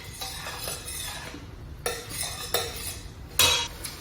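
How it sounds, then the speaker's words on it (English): Spoon stirring through browning stew meat and mushrooms in a pot for Irish stew, a few clear scraping clinks of utensil against metal spaced apart, up close with faint background hum. "Let's give that a stir."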